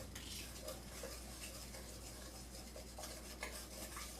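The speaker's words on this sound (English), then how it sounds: "what I'm doing here is creaming together the egg whites and the sugar" Egg whites and sugar are creamed together by hand in a bowl, a faint, steady scraping and stirring with light irregular taps of the utensil against the bowl, quiet and close.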